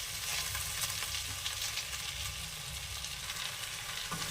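Boiled pasta is tipped into a pan of sauced vegetables and stirred, giving a dense, continuous close sizzle with soft irregular scraping and no talking.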